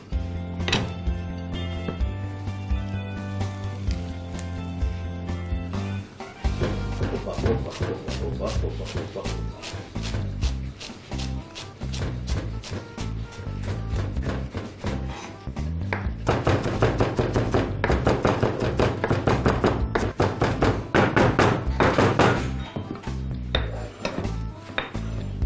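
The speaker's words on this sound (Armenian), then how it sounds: "կտրատում ենք նաև համեմը" Fresh coriander chopped with a knife on a board, a fast steady run of crisp taps that speeds into dense clattering bursts, close and distinct over a low background, with some talking.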